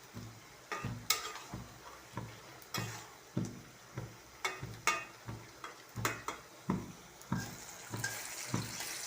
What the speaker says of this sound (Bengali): মাছটা ভেজে নিয়েছি, তরকারিগুলো কষায় নেব।